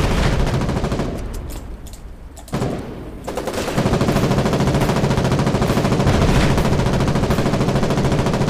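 Heavy sustained automatic gunfire in the war game Foxhole during a fight against a tank, a dense continuous barrage that briefly thins before surging back loud and close.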